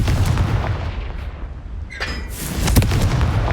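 Confringo explosive spell blasts in the Hogwarts Legacy video game, deep rumbling booms and sharp cracking bursts with a bright crackle, loud and close over continuous low game noise.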